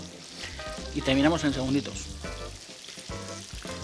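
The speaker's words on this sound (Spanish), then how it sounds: "Me quedo aquí unos segundos más, soasando este lenguado" Sole fillets searing in a hot pan with butter, a steady bright sizzle and crackle running throughout, partly beneath someone speaking Spanish close by.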